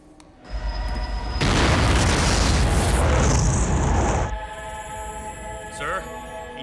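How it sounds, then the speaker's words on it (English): A nuclear warhead explodes in an action film, a huge roaring blast that swells suddenly, holds loud and full for a few seconds, then fades to a rumbling tail with soundtrack tones underneath. "Sir, he detonated the warhead."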